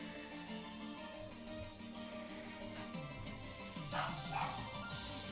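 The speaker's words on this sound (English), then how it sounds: "Oh gee, the dog is barking." A family dog barks indoors in the background, a few short yips and bow-wows breaking out near the end over a steady room hum, fairly faint and distant.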